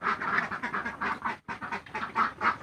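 A flock of farm ducks kept for egg laying, quacking in dense overlapping bursts close by, with a brief pause before the chorus resumes.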